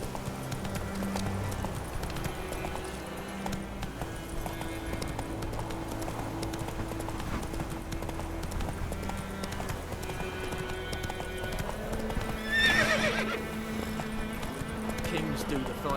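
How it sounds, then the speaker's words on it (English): Hooves clip-clop in a steady rhythm as a horse gallops in The Witcher video game, mixed with music and game noise, with a brief whinny near the end and a voice talking over it. "Whoa there, Roach."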